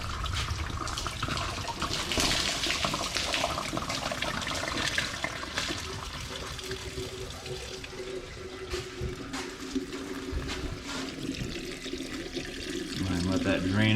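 Coolant pours from a loosened radiator hose on a 2003 Ford Crown Vic, a continuous close splashing gush of liquid with some talk mixed in.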